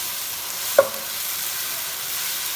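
Blended tomato purée going into a hot pan, a steady soft sizzle with one brief sharp splash as it lands, close and without talk.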